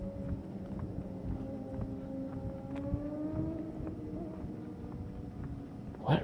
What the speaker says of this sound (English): I hope you probably can hear the motorcycles.